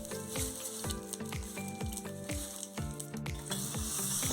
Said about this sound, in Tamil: சைடில் ஒரு பேனில் கொஞ்சம் கடுகு, ஒரு காஞ்ச மிளகா, கொஞ்சம் எண்ணெய், அப்புறம் கருவேப்பிலை இதெல்லாம் போட்டு நல்லா தாளிச்சு எடுத்துடலாம்